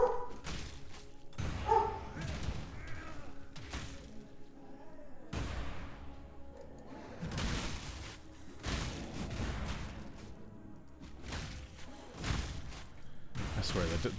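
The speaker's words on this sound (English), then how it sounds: "the dog will go from completely silent, sleeping, to absolutely losing her mind" A pet dog barks excitedly in rapid, loud bursts of yips and bow-wows that repeat throughout, mixed with thumps and a person talking nearby.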